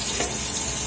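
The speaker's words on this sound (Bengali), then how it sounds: "এখন আমি বেগুন ভাজছি।" Eggplant slices fry in a hot pan, giving a steady, close, dense sizzle and crackle through a brief moment with no voices.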